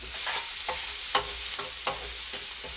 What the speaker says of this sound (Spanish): Lo sofreímos pero ligeramente